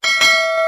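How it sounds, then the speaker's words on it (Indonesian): A notification bell sound effect rings out, two bright metallic strikes close together followed by a clear ringing tone that fades over a moment, loud and alone. "bunyikan lonceng notifikasinya sebagai dukungan kepada channel ini"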